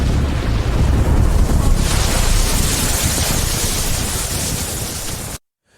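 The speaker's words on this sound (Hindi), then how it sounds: "और ये जोरदार धमाका हुआ" A loud, dense roar of blast-like rumbling from an AI-generated explosion holds steady for about five seconds, then cuts off abruptly into silence.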